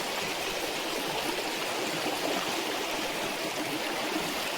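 A river rushes steadily nearby, a dense, constant wash of flowing water with no pauses and no voices.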